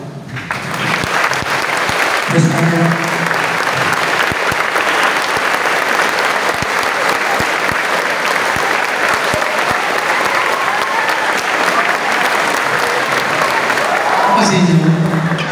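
Sustained audience applause fills a seminar hall, dense and loud throughout, with a speaker's voice briefly heard over it near the start and again at the end.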